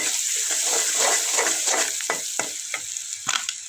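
Potatoes hit hot oil spiced with chili and coriander powder, setting off a loud, close frying sizzle with scattered stirring clinks and scrapes in the pan.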